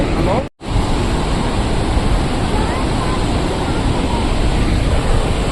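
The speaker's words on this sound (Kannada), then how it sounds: "ಮಿಕ್ಕಿರೋದೆಲ್ಲ ಹಿಂಗೆ ಹರ್ಕೊಂಡು ಹೋಗ್ತೈತೆ ನದಿ" A loud, steady rush of river water flowing past a small falls at Male Mahadeshwara Hills roars continuously close by, briefly cutting out near the start before resuming unchanged.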